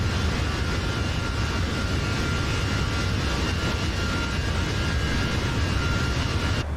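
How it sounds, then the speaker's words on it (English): CFM engines of an Airbus A320 in the MSFS flight simulator game produce a steady, loud, broadband jet roar that holds constant throughout and cuts off sharply at the end. "Sounds really nice. Yeah, those are the CFM engines."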